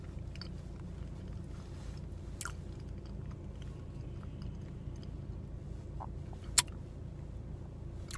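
Someone chews and eats a banana close to the mic, with soft, steady squishy bites and mouth sounds and an occasional sharper click, without talking.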